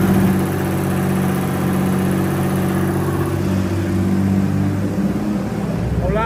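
A car engine held at a steady 3000 rpm, a loud, continuous mid-pitched hum with a steady whir, nearby and unbroken, with a faint voice murmuring briefly under it.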